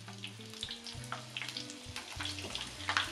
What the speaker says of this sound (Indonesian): Sambil sesekali kita aduk-aduk kacang tanahnya yang kita goreng.